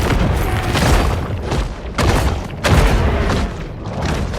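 Great white shark in the Maneater video game letting out a deep, T-Rex-like roar, broad rumbling bursts that swell and recede several times, loud and close with no speech over it.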